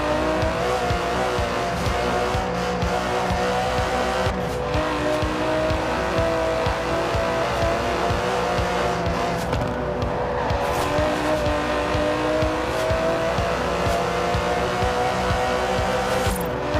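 Aston Martin DB11 with a 5.2-litre twin-turbo V12 in Forza Horizon 4, engine roaring loud and continuous for many seconds, revving up and down through gears with tyre squeal and brief skids.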